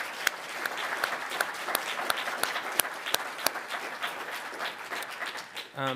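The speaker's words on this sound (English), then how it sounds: "Let's give them a round of applause" An audience at an author talk applauds, a dense, steady patter of many hands clapping across the room, with a few sharper individual claps standing out before it tails off near the end.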